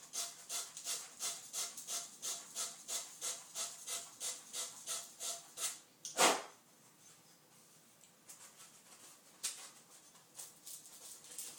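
Sandpaper scrubs the oxidized ends of copper pipe clean before sweating, a steady rhythmic back-and-forth rasp of about a dozen even strokes, then a sharp knock and a few scattered scrapes, close and moderately loud with no talk.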